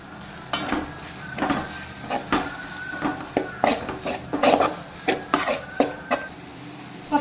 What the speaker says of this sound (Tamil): இப்போ இது கூட கொஞ்சமாக மஞ்சள் தூள், மிளகாய் தூள், கொஞ்சமாக தனியாய் தூள் ஆட் பண்ணி நல்லா கிளறி விட்டுக்கலாம்